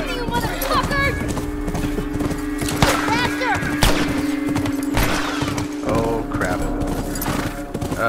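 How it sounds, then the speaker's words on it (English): A horse gallops with steady clip-clopping hooves in The Last of Us Part II, mixed with gunfire bursts and loud game sounds, while a person talks over it. "If I hold it, does the horse go faster or..."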